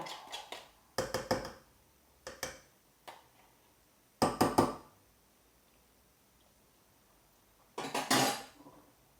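Clattering bursts of utensils and metal against a saucepan as food is put in, spaced irregularly with quiet pauses between, close and fairly loud.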